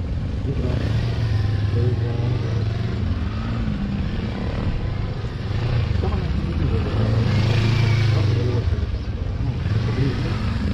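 A Kawasaki Versys 650 motorcycle on a gymkhana cone course: the engine drones loudly and close, its pitch rising and falling with repeated throttle blips through turns, with a rider talking over it.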